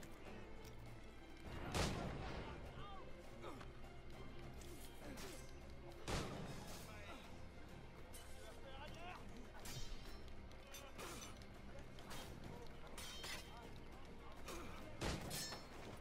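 Gunfire and impacts in the Assassin's Creed Freedom Cry video game, several sharp booming shots spaced a few seconds apart over a busy, faint background of game sounds.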